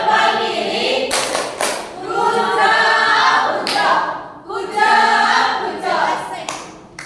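A classroom of students performing a rhythmic clapping chant, tepuk bucot, with thumb gestures: bursts of group claps and slaps alternating with chanting voices, loud and close, in a patterned repeating rhythm.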